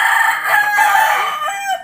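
A red rooster crows loudly and close by on a rural farm, a single strained cock-a-doodle-doo that fills the short moment without any talking.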